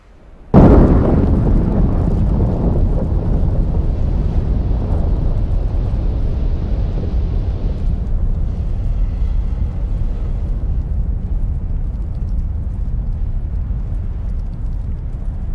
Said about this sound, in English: strombolian eruption blows ash and incandescent bombs